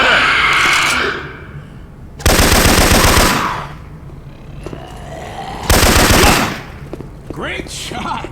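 Two long, loud bursts of automatic machine gun fire in the video game Left 4 Dead 2, each lasting about a second, separated by quieter game ambience and a brief shouted voice.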